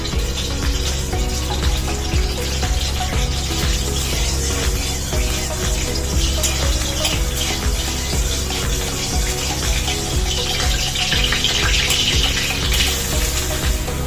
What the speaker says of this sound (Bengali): তো চলো আগে পেঁয়াজটা ভেজে নেওয়া যাক